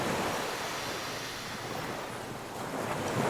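Ocean waves roll continuously onto a beach, a steady broad wash of surf with some wind noise, swelling slightly at the end, with no talking.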